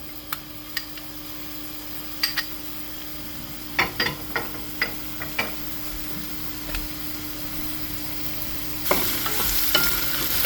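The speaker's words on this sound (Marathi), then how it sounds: "गार्लिक आनी जिंजर भाजून घेता बरें" Garlic and ginger frying in hot oil in a Goan kitchen, with a soft continuous sizzle and scattered clicks and taps of a utensil stirring, and the frying growing louder and brighter near the end. No one speaks.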